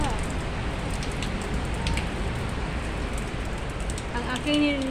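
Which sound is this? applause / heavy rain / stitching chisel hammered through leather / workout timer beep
heavy rain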